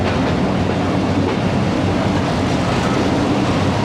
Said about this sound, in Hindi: मुल्तान कैंट रेलवे स्टेशन से रवाना हो गई है ट्रेन।